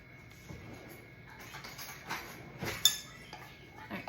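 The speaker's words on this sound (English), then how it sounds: "All right, so we're just kind of stirring this around." Powdered sugar glaze with heavy cream being stirred in a dish for blueberry biscuits, soft scraping with light clinks of a utensil against the dish, quiet and close, a sharper clink near the end.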